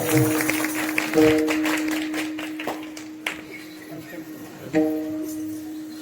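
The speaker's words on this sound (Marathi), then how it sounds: "वा टाळ्या वाजवत आहे सगळे" Kirtan audience clapping along in bursts, crisp hand claps scattered through a sustained droning tone, loudest near the start and again toward the end, with a voice speaking between.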